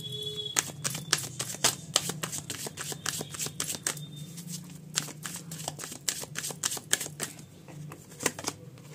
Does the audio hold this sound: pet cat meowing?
no